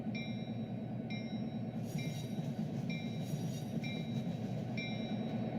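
A train rolls in during a street-running scene in the Trainz 12 game, a steady low rumble beneath a regular series of high electronic beeps from crossing lights repeating about once a second.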